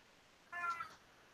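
A single short meow from a female house cat, clear but fairly soft, heard alone over quiet room tone.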